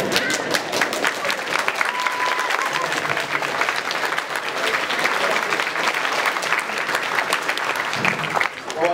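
A convention panel audience applauds and cheers continuously, a dense wash of clapping and crowd voices filling the room throughout.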